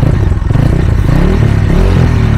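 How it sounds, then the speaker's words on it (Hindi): A Bajaj Dominar 400 BS6 motorcycle engine revs loudly and close up, a deep, throbbing exhaust note holding steady for a couple of seconds with some mechanical clatter and no voices. "दूसरा रीज़न इस बाइक की आवाज़।"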